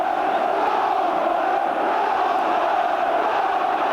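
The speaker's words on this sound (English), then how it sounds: "The crowd behind the goal gave a huge roar of relief then" A large football crowd behind the goal roars in a sustained, dense wall of noise, loud and unbroken throughout, with no distinct voices standing out.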